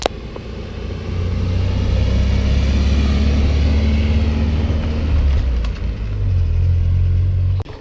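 A JDM car being driven for the first time in years, its engine rumbling loudly and steadily close by, with a brief dip in revs before it picks up again.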